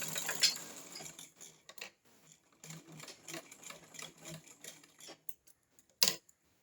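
A domestic sewing machine runs slowly along a straight seam, its needle mechanism ticking in a steady, close rhythm with brief pauses and a sharp click near the end.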